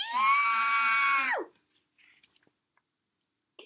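A voice imitates a turtle screaming in a tantrum, giving one loud, drawn-out shrill shriek that drops at the end and stops abruptly. Faint small clicks follow in near silence.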